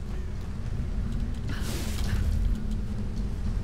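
Wind blowing across an island in the 2013 Tomb Raider game, a steady low rushing rumble with a brief airy gust swelling midway, no voices.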